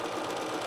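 A sewing machine runs steadily while stitching a bolster pillow, a continuous close whir and hum with no pauses.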